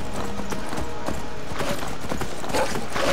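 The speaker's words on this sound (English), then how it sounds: "my stolen horse is doing work" Horse hooves clip-clop steadily in the video game Skyrim, a rapid, continuous galloping rhythm with some mechanical game sounds, and a voice faintly under it.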